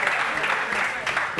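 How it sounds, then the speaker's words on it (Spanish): A studio audience claps steadily through a comedy show segment, with voices mixed in over the applause. "¡Un aplauso para ti!"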